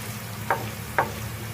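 Chopped onions frying in a pan for beef keema, a continuous low sizzle with two distinct scrapes of a spoon stirring them, close and clear without any talking.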